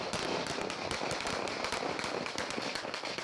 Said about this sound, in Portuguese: mostra o momento dos disparos contra uma delegacia na periferia de Fortaleza